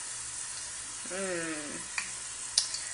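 Patty poppers frying in hot grease give off a steady, soft sizzle with a few faint pops, while a quiet voice murmurs briefly over it.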